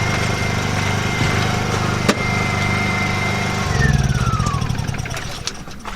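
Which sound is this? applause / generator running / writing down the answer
generator running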